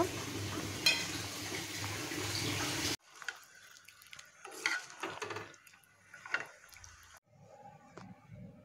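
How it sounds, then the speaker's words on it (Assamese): Boiled and fried eggs added to a pot of simmering curry, with a steady bubbling sizzle followed by sparse, quieter stirring and soft splashes from the pot. "এতিয়া মই ইয়াতে বইল কৰি ভাজি লোৱা কণীখিনি দি দিম আৰু তাৰ পিছত এইখিনি উতল অহালৈকে ভালদৰে হ'বলৈ দিম"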